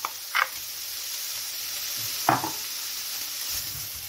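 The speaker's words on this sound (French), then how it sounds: "On va faire revenir nos lardons." Bacon lardons fry in a hot pan with a steady broadband sizzle, broken by a few short bursts of louder crackling and spatter, close by with no voices.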